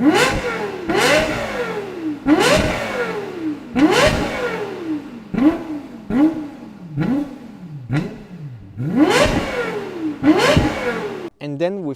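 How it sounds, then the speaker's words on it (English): A sports car engine revved repeatedly, about a dozen sharp rising blips with a throaty exhaust note, close and loud. "Then of course we find this beautiful exhaust, which sounds incredible."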